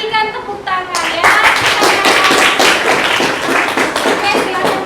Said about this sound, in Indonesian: untuk kelompok 5 kita berikan tepuk tangan ya